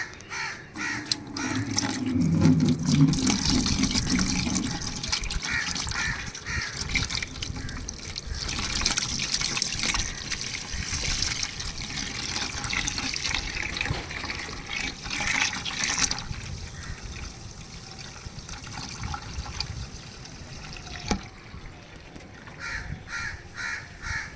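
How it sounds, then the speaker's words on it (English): Tap water running into a bucket reservoir of a small dam model, a steady filling rush for over twenty seconds with crows cawing outdoors in the background. "Let's fill the reservoir."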